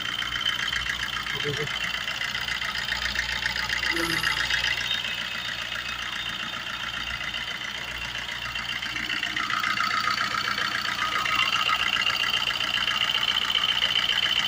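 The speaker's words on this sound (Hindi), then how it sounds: "तो फाइनली वही स्टार्ट हो गई गाड़ी" A Maruti Swift Dzire engine idles steadily after a timing chain and chain guide repair, a continuous mid-pitched hum with a faint rattle, while people talk over it throughout.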